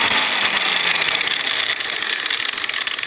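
A small mini rock crusher's motor runs steadily at close range, a continuous loud mechanical whir and hum with a bright, buzzy high end and no pauses throughout.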